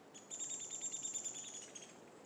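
Rapid high-pitched nuthatch chirps repeat steadily through the clip, fairly faint, set against a soft outdoor background with no talking.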